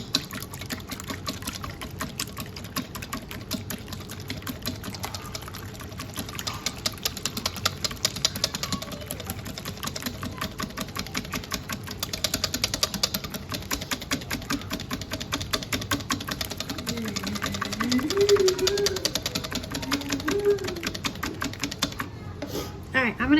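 Egg whites being frothed by hand for coconut cookies, a rapid, steady clicking and sloshing beat of a whisk against a bowl that runs close throughout, with brief voice sounds near the end.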